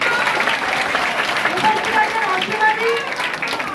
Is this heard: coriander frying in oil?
no